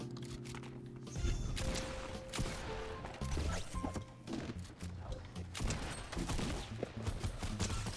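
Dense bursts of Fortnite gunfire crack and smash through the scene, loud and near, in rapid clusters over a game background with occasional impacts and no clear talk.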